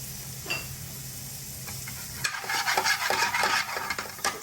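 Thinly sliced onions and peppers drop into a hot pan for a restaurant-style Bengal naga phall curry, then settle into a steady close sizzle with scraping stirs and a few clinks of utensils, no voices.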